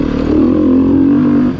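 A 2019 Beta 350RR-S dirt bike ridden on a test ride, its engine droning loud and steady with a smooth, sustained tone, close and continuous with a slight rise in the middle.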